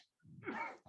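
A single short sneeze rings out faintly in a quiet town council meeting room, a brief breathy burst lasting under a second.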